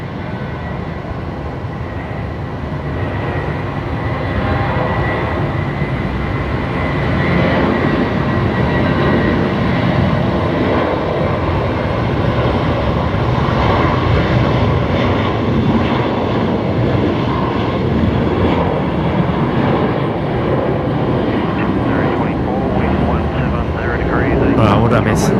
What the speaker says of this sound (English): we've got Jetstar 575 rolling now, which is heading to Melbourne tonight